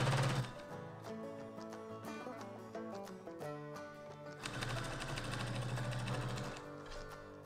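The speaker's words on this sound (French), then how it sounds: "Et donc, je vais coudre ça à 1 cm du bord." A sewing machine stitches a seam in jersey fabric for a skirt, 1 cm from the edge, running in quick bursts with short pauses, then a longer steady run near the end.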